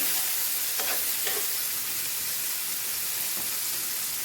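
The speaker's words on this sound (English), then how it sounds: "continue cooking our, if you want this sausage to cook really good" Sausage frying in a pan on the stove, a steady close sizzle with a few brief stirring scrapes and no talk.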